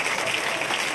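A live comedy audience in Edinburgh clapping for a volunteer called onto the stage, a brief burst of dense, steady applause with no other sounds.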